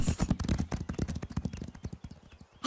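Cartoon horses trot in a quick, steady clip-clop rhythm of hooves, moderately close and fairly quiet, with no voices over it.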